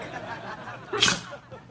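A single sharp sneeze bursts out close by after a moment of quiet talk.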